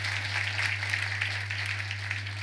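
A congregation at an annual feast-day Mass claps together, a broad even wash of applause with a steady low hum underneath.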